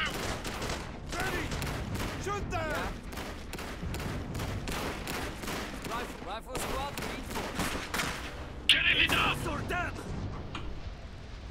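Rapid bursts of gunfire in the video game Iron Harvest crackle nearly nonstop, dense volleys layered with sharper single shots, loud and close throughout.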